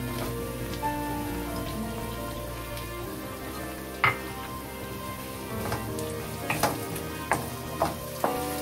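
Oil sizzling and crackling as tomatoes go into a pan of browned fried onions for a dhaba-style aloo gobhi matar sabzi, a steady hiss with several sharp spits and pops near the end.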